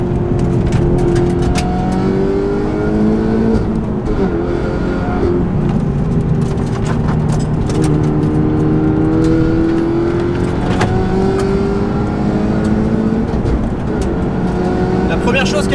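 A Peugeot 308 ByFactory race car on semi-slick tires laps the Nürburgring, its engine heard from onboard revving up and down through gears in a loud continuous drone, with someone talking over it.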